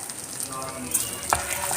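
Cumin and fenugreek seeds crackle and sizzle steadily in hot oil for a lemon leaf kulambu, with a few sharper pops rising above the constant frying hiss.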